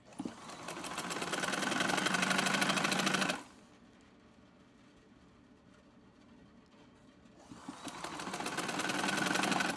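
A sewing machine stitches a shirt sleeve in two loud, fast, rhythmic runs of needle clatter, separated by a few seconds of quiet hum, heard close up and without talking.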